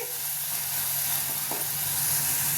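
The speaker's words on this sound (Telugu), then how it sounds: "ఇప్పుడు బాగా ఫ్రై చేసుకోవాలి" Green chillies fry in hot oil in a pan, giving a steady, close sizzle and hiss that runs the whole time, with a faint stir or scrape partway through and no talking.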